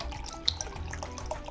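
Merlot is poured into Devil's Food cake mix in place of water, giving a faint, light trickle with a few small drips and no talking.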